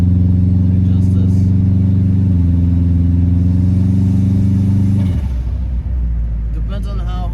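A tuned car with boost running below target revs hard, its engine droning loud and steady with stepped pitch rising under load, then dropping to a lower rumble toward the end.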